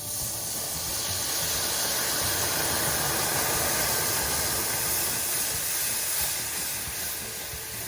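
Beef broth poured slowly into a hot pan over a dark roux, a loud, steady, broadband hiss of sizzling and steam that stays even throughout with no talk.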